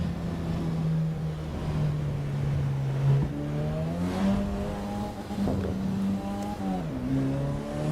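A racing car engine in the video game Assetto Corsa EVO drones steadily, its pitch climbing and settling as it revs up and eases off, close and continuous.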